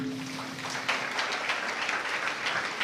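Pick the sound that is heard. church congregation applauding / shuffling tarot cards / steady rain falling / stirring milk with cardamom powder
church congregation applauding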